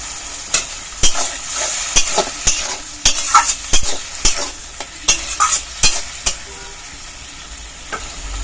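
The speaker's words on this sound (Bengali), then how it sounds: "আর একটু জল দিয়ে ভালো করে মশলাটা কষিয়ে নেব।" A spoon scrapes and knocks in a regular rhythm as spice masala for an egg bora curry fries in a pan. The sharp strokes sound close and loud over a steady sizzle.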